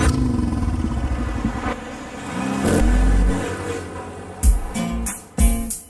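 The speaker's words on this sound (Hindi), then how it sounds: "तू गाड़ी चला।" A car engine revs as the vehicle is driven off, a loud rising drone followed by two sharp bursts of acceleration near the end.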